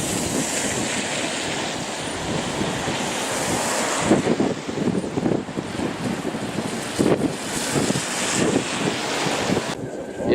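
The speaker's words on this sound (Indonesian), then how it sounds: "Tapi anginnya sangat kencang sekali." Strong wind in Volendam buffets the microphone in a constant roaring rumble, with gusts rising and falling throughout and no clear voices.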